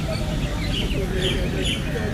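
Birds chirp and call softly in an outdoor setting with light rain, scattered bird calls high over a steady low background noise throughout.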